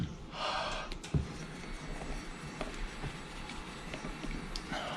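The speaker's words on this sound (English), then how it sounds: "Hot breath adds a little bit of moisture" A person breathes a hot, huffing breath onto a leather shoe before buffing it with a Saphir chamois, a short airy exhale near the start amid quiet, faint rustling room noise.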